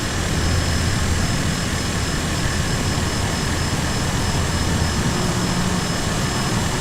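A Cessna 172 light aircraft drones in flight, a loud, unbroken engine and propeller roar heard from inside the cabin, steady throughout.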